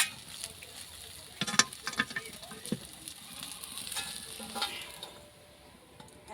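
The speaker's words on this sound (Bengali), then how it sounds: "এখন ভালো করে ভেজে নেব সয়াবিনগুলো" Soybean chunks fry in hot oil in a wok, giving a continuous close sizzle, with scraping and clattering stirs that come in short bursts, loudest early on, with no talk.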